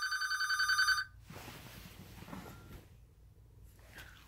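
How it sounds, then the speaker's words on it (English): A telephone bell rings sharply for about a second, then stops, leaving quiet room noise and soft rustling. "the phone's ringing off the hook"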